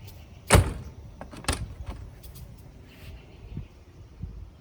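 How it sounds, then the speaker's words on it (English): The entry door of a Tiffin Wayfarer RV swings shut with a sharp, close thump and latches, followed by softer clicks and small knocks as the latch settles, no talking. "when you close this door, it'll latch and pull it back"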